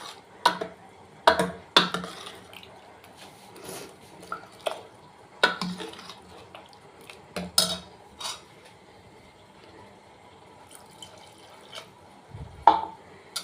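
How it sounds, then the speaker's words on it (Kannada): Water poured into mashed lentils while making mulangi sambar. Intermittent pours and drips come with clinks of a spoon and utensils, close by and fairly faint, with quiet gaps between them. "ಇನ್ನೊಂದು ಸ್ವಲ್ಪ ನೀರು ಹಾಕ್ಕೊತಾ ಇದ್ದೀನಿ"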